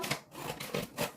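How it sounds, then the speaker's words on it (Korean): Scissors snip open a plastic LEGO parts bag from the Wednesday and Enid dorm room set 76781, making a few quiet, close crisp cuts in quick succession. "이거 절대 손으로 안 뜯기로 했습니다."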